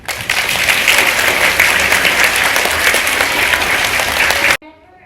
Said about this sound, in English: Please join me in a round of applause for p4cHI Hawaii Philosophy for Children leader, Dr. J.